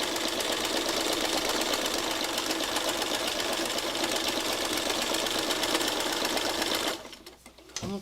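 A sewing machine stitches lines across the grass area of a fabric piece, running in a fast steady mechanical whir for several seconds before stopping abruptly near the end.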